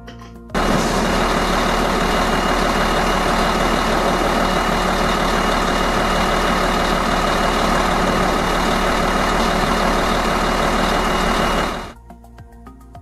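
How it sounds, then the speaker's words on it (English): Truck engine running at a steady, loud, heavy drone that starts abruptly, holds for about eleven seconds, then cuts off. "It is truck, T-R-U-C-K, truck."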